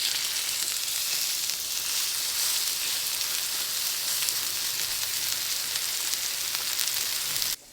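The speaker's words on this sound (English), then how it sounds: "I'll be cooking my steak with a little bit of peanut oil" A steak sears in peanut oil in a very hot skillet, a loud, dense, continuous sizzle and crackle close up that holds steady throughout before cutting off.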